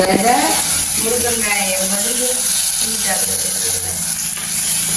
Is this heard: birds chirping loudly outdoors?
no